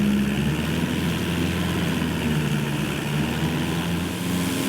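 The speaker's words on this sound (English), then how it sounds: "gonna try to line up to runway 25 left in this 172 Cessna Bob." Steady propeller drone of a Cessna 172 single-engine plane in Microsoft Flight Simulator 2024, lining up for a runway approach over Los Angeles; a constant, even engine hum with no voices.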